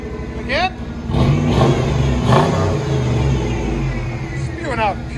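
A 1996 Chevy Tahoe's 5.7L V8 with a Flowmaster Super 10 exhaust revs up and down nearby, with throaty exhaust rumble surging in bursts and chirping squeaks at the start and end.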